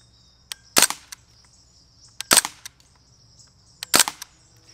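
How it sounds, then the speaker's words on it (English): A Crosman Bushmaster MPW full-auto BB gun fitted with a red dot fires at a target about 12 yards downrange: three short, rapid bursts spaced well apart, loud and close, with quiet between them. "I'm just going to start out shooting about probably about 12 yards here and see how we do"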